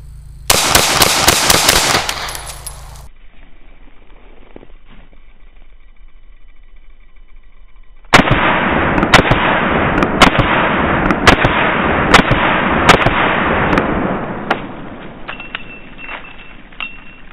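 Handgun shots fired with a loose grip at a firearms training range, a quick string of loud, sharp cracks, then after a pause a longer evenly spaced series of close reports.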